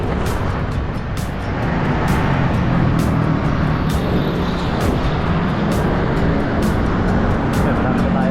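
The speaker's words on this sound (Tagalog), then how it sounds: "Ito lang yung traffic." Loud, steady roar of city street traffic near a rally in Luneta, with engines droning close by and a constant wash of road noise, broken by repeated sharp clicks.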